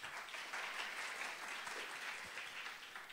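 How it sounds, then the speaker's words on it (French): Steady applause from an audience at a French reading competition in Iraq, a dense wash of clapping that holds at an even level for a few seconds with no voices on top. "on peut l'applaudir pour l'encourager."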